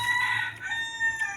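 Part of a rooster's crow, a sustained bright call heard fairly close for just over a second above a low steady hum.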